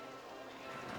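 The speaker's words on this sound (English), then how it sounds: "people will buy them when it's raining. Like right now." Steady rain falling in the RollerCoaster Tycoon game, a continuous broadband hiss of drops that holds evenly throughout at moderate level.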